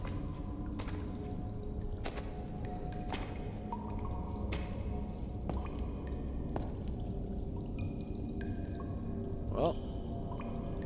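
Water dripping inside a dark well in a psychological survival horror game, with sharp, sparse drips at irregular intervals echoing over a low, steady rumbling ambience.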